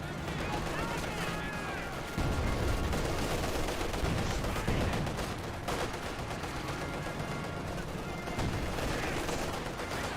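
ZiS gun artillery fire in Company of Heroes 2 forms a dense, continuous barrage of booming shots and crackling gunfire on a garrisoned position, steady and loud throughout, with commentary talking over it.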